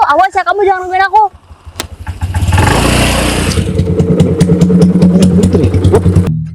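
A big motorcycle engine starts and runs as the rider pulls away, a loud close rumble rising and then holding steady, after a brief burst of talk at the start.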